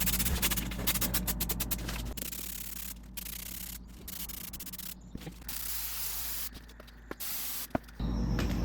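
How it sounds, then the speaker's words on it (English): Spray glue hisses from an aerosol can onto the lip of a 1970 Triumph TR6 interior panel during installation, coming in several close, steady bursts with short pauses and no talking. "now we have to spray glue on the lip outside and then on the lip inside and down."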